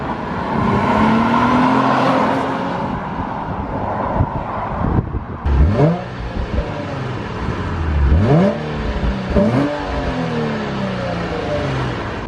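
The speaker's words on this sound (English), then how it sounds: "I'll play the clip that Sean got of me driving this when it was completely stock" A stock Nissan 350Z with its original exhaust revs and passes nearby, rising and falling in pitch through gear changes, with wind buffeting the microphone.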